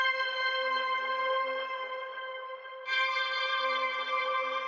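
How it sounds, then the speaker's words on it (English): A sustained, bright synth chord pitched up an octave with halftime, rich harmonics, swelling brighter midway, under a slow, soft low pulse; no voices. "I pitched it up an octave and I added halftime to it"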